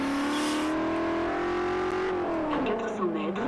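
Car engine in Forza Horizon on Xbox 360, revving steadily with a rising pitch, then dropping and shifting as the car slows or changes gear, loud and continuous.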